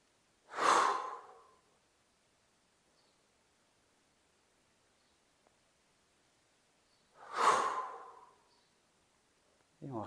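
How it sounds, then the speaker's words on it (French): Two forceful breath exhales during a yoga relaxation exercise releasing the shoulders, each a short loud whoosh close by, separated by several seconds of near silence. "Et expire, on relâche d'un coup les épaules en faisant chou."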